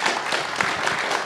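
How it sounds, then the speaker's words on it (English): An audience at a USENIX Enigma conference session gives a round of applause, steady dense clapping filling the room throughout. "Everybody, a round of applause,"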